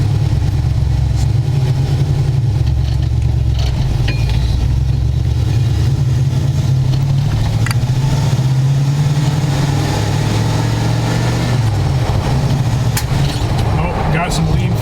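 Engine running during carburetor tuning produces a loud, steady low drone with slight shifts in pitch throughout, and a voice is heard over it.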